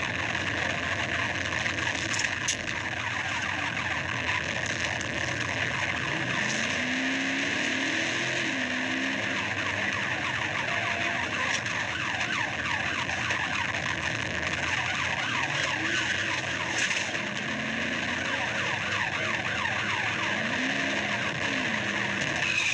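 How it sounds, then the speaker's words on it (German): A police car chase on city streets as a fleeing car speeds away, heard as a continuous loud roar of engines and road noise with faint wavering siren tones and tire sounds, steady throughout. "Als Verstärkung eintraf, gab Taylor plötzlich Gas und floh vom Tatort."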